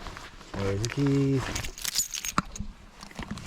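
A voice speaks briefly, then keys jangle with a quick metallic jingle, followed by light clattering and shuffling, outdoors in warm rain at Tully Castle, County Fermanagh.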